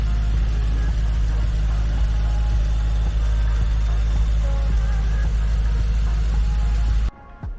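A 2021 Mercedes-Benz G63 AMG engine idles in a steady, loud, deep rumble with a constant low hum, cutting off abruptly near the end.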